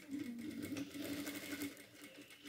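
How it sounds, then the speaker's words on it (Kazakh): A sewing machine runs at a steady pace, stitching a zippered pillowcase, with a close, continuous mechanical whir and rapid needle rhythm and no talking. "Мына осы жерге дейін қайырылған ұшынан тігіп өтеміз."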